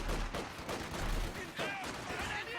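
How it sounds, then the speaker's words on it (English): Machine gun fire in the World War II strategy game Company of Heroes 2, bursts of rapid shots crackling in the mix alongside other battle noise, rather faint overall. "It's kind of relying on my machine gun to pin this squad"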